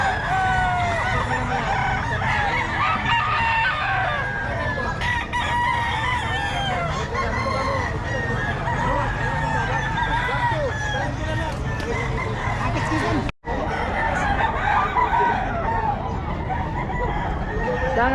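Roosters crow repeatedly at a chicken market in San Fernando, Pampanga, several birds overlapping with clucks amid a dense, busy crowd and market din, people talking throughout.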